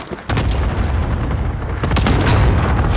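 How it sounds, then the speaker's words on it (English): Cluster airstrike explosions roll in as a continuous heavy rumble of booms, loud and sustained, swelling again partway through with sharp blasts on top, with no talk. "Cluster strike away."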